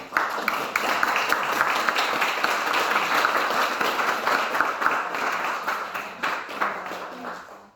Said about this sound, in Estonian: teeme ühe sooja aplausiga härra Andrusele